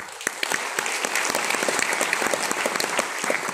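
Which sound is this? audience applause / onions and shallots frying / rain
audience applause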